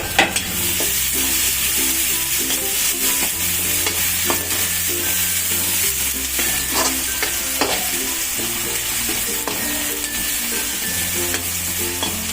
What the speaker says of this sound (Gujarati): ડુંગળી નાખીશું, ડુંગળીને થોડી બ્રાઉન કરવાની છે